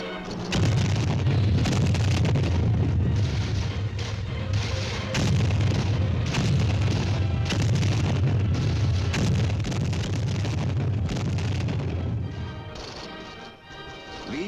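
Supporting artillery fire in a Vietnam-era infantry training scene: heavy, rumbling explosions and booms rolling one after another over a continuous roar, loud and sustained before easing off near the end.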